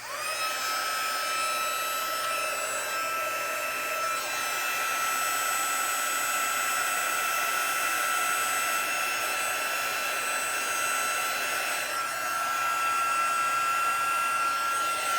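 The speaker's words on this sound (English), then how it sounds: "I'm going to hit this with my heat tool because I'm impatient." A heat embossing tool blowing hot air steadily onto a watercolor paper card, a loud continuous whirring hum that runs unbroken throughout, up close with no voices.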